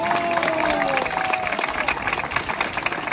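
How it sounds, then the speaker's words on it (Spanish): An audience gives loud, sustained applause for the girls of the Asociación de las Maravillas at a Día de Andalucía celebration in Almuñécar, with dense close clapping and a few cheers. "a las cuales os pido un fuerte aplauso para ellas"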